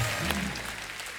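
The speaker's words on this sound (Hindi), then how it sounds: "जोरदार तालियां हो जाए हमारे चारों मेहमानों के लिए" A studio audience on a television comedy show claps for four guests, a short burst of crowd applause with a low background hum underneath, fading slightly toward the end.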